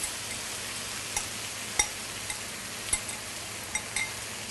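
Rice and canned tomatoes are stirred into cooked chicken in a pan, with a steady soft sizzle and a few distinct knocks and scrapes of the spoon against the pan.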